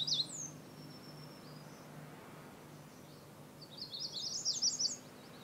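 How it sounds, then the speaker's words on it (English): American redstarts sing in the woods, several males within earshot of one another: a faint high song at the start and a louder, nearer run of quick thin notes near the end over a soft background hum. "There are 3 different American redstarts all singing within 50 yards of each other."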